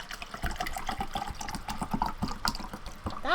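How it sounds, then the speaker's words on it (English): Water poured for ASMR, a continuous soft trickling and splashing at close range, faint and steady, with no talking over it. "have fun listening to this pouring water ASMR real quick."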